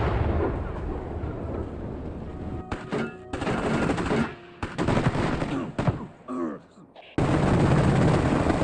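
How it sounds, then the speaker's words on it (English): Live weapons fired at an outdoor firing range for sound recording for the Ghost Recon game, loud repeated gunshot blasts and bursts with sharp cutoffs and echoing tails, close and powerful. "Sound Deluxe set up a firing range and did some live weapon fires out there"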